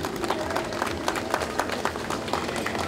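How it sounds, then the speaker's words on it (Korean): Crowd applause at an outdoor monument unveiling ceremony at Freedom Square in Daegu, many hands clapping steadily at moderate volume for the whole stretch, with faint voices mixed in. "여러분 힘찬 박수 부탁드리겠습니다"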